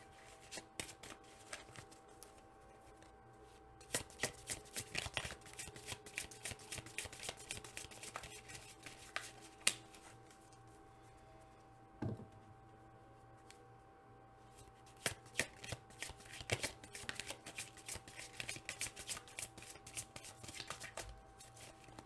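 Tarot cards being shuffled by hand in quiet, crisp riffling bursts, paused briefly between runs of soft flicking and slapping.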